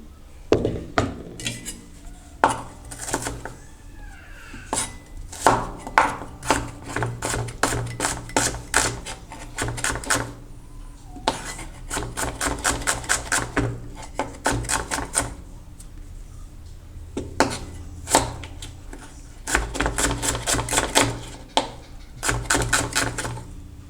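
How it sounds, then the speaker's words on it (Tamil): A knife chops onion, garlic, green chilli and tomato on a board for a brinjal lentil curry, with rapid runs of sharp, close taps broken by short pauses throughout, and no talking. "வெங்காயம் கட் பண்ணிவிட்டு, பூண்டை கட் பண்ணிவிட்டு, பச்சை மிளகா கட் பண்ணிவிட்டு இதில் சேர்த்துக்க போகிறோம்"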